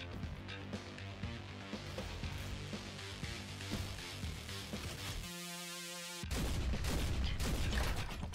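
Rapid rifle fire in the video game Roboquest rattles out in continuous bursts, pauses briefly for a tonal whine, then resumes louder with dense, close shots.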